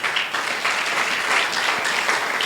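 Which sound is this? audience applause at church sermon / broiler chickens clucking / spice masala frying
audience applause at church sermon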